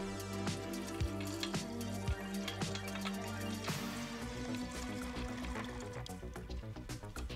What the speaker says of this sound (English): I add about half a liter of reaction mix into 1 liter of ice water